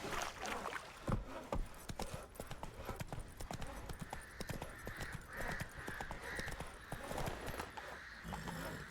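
Roach the horse galloping in The Witcher 3, rapid rhythmic hoofbeats pounding continuously at close range, with faint birds cawing in the background.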